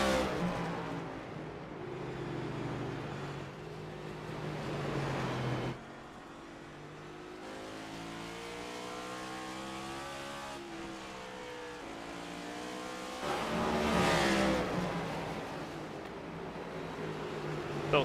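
Race cars roar around the track at a nighttime all-star short-track race, engines droning steadily and swelling as cars pass close by, with revving surges and one loud pass near the end.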